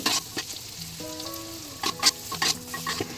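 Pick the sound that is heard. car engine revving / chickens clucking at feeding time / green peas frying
green peas frying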